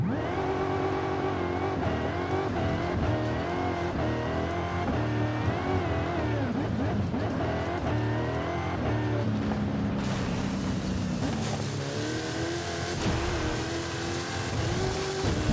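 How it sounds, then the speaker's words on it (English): Off-road Dodge Charger engine in the Forza racing game, a loud continuous drone with shifting revs and pitch, rising with a brighter, harsher burst of throttle partway through. "here's the off-road Charger again"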